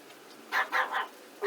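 A dog gives three quick, sharp barks in close succession over a steady hiss of rainy-day background noise.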